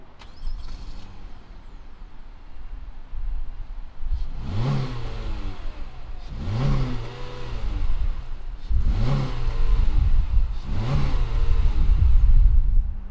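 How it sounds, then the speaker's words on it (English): A 2-liter engine in a 2020 Honda Civic LX is revved four times in a row, each rev rising sharply and falling back to idle. The engine is loud and close, with the idle growing rougher toward the end. "fire up this 2-liter and see what it sounds like"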